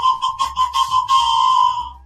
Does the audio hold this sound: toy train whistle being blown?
yes